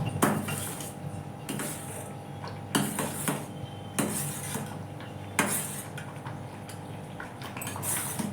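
Beetroot jam being stirred in a pan, with a spoon scraping and knocking against the metal in repeated bursts roughly every second or so, close and moderately loud, with no voices.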